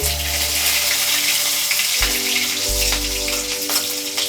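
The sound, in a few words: green chili and black cumin sizzling in hot mustard oil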